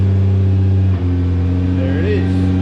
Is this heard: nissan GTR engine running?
yes